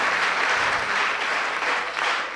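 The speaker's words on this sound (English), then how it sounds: "Let's give a big applause for all our people sitting here." Audience applause at the closing of a Perfect Health Mela seminar: dense, steady clapping from a seated crowd, loud and continuous throughout with no voices.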